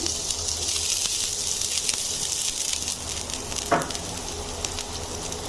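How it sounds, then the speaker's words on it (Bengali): Chopped onion fries in hot oil with a steady, close crackling sizzle that runs throughout, and a brief stir or clatter partway through. "আমার তেলটা গরম হয়ে গিয়েছে এখন আমি দিয়ে দিচ্ছি পেঁয়াজ"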